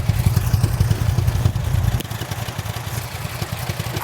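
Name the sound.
bus engine idling in the background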